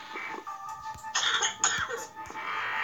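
Cough sound effect from the video game Plague Inc., a pair of short, rough bursts near the middle, heard over steady game music with no talking.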